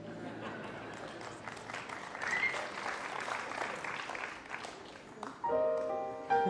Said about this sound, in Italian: Scusami se l'ho chiamato l'applauso